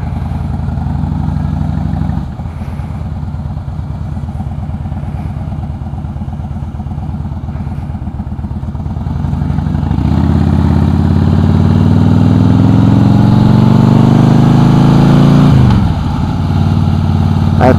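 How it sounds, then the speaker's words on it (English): A 2008 Harley-Davidson Crossbones motorcycle fitted with Prism Tube exhaust rumbles loudly at a steady engine note, then revs up and climbs in pitch as it pulls away, staying close and dominant throughout. "I think this may be just a little bit too loud to record on this bike."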